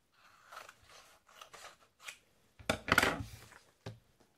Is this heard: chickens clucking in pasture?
no